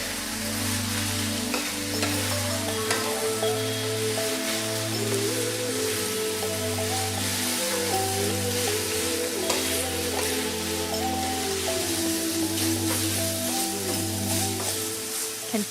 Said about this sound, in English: Continue to stir fry for another 1 to 2 minutes to allow the flavors to be absorbed and the aroma to be released